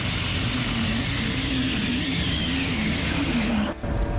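A track rotator car driving laps at a race circuit on a test day, laying rubber on the surface. Its tires make a sustained squealing, scrubbing sound over a loud, steady engine drone, close by, with a brief dip near the end.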